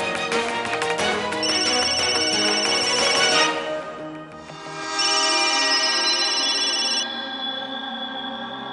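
A telephone ringtone in a Hindi TV drama: a loud, bright electronic melody with sustained chiming tones, playing for about three and a half seconds, pausing briefly, then ringing again close and clear.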